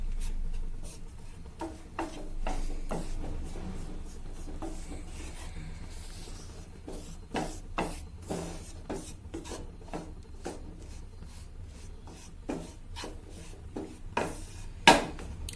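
A spoon scrapes and stirs gram flour in ghee in a pan over a low flame, producing a run of irregular dry scraping strokes, mostly soft and close, with a few sharper scrapes near the end.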